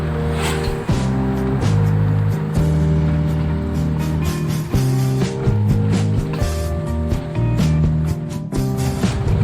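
A 2011 Toyota Avanza car pulling in fifth gear, a steady engine hum rising and shifting in pitch as it gains speed, with some cabin rumble and no talk over it.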